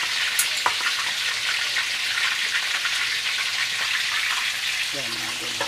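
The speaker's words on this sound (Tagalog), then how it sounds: "magpiprito ako ng bangus" Milkfish (bangus) frying in oil in a pan, a close, steady sizzle that runs throughout, with someone briefly speaking near the end.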